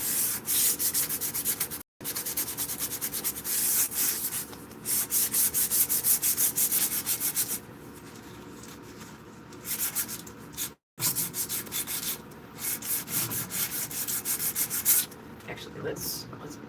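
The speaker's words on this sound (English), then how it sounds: "So I'm just gonna sand without gloves." Hand sanding of wood without gloves, with continuous close scratchy rubbing strokes that pause briefly twice and vary in intensity over the length.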